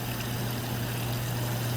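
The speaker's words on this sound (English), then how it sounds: "Gravity makes water flow down and ultimately takes the path that it can flow" Water running steadily through an Archimedes screw exhibit, a constant trickling, splashing flow with a low mechanical hum beneath, close and even throughout.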